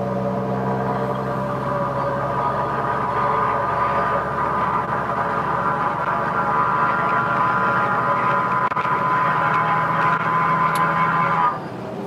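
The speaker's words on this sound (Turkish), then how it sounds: "Bir daha bir kökle bakalım şöyle egzoz sesini." A loud, steady diesel engine drone from a Renault Premium 440 truck with 1,500,000 km, deep exhaust rumble, holding a constant pitch for about eleven seconds before cutting off abruptly.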